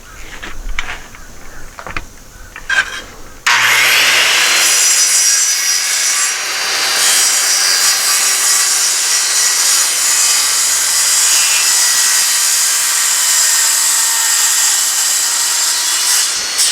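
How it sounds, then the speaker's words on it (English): Power saw cutting 3/4 inch plywood, set to half depth, while repairing a rotten cargo trailer door. A few knocks of handling come first, then a loud, continuous rasping cut runs close up for the rest, with no talking. "Since this is 3/4 inch plywood, I'll set the blade depth to 3/8 and we'll cut scarf just"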